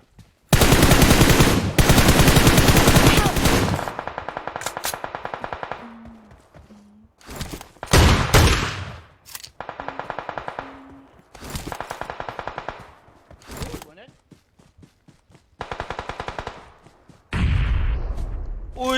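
Rapid automatic gunfire bursts and single shots in a shooting video game, loud and close, broken by short gaps with footsteps and quieter clicks.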